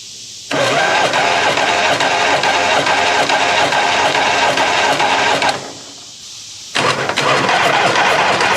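A 1970 Harley-Davidson FLH Shovelhead engine is cranked over by the starter with the throttle held open for a compression test. It gives a loud, steady mechanical whir that runs about five seconds, stops briefly, then starts cranking again.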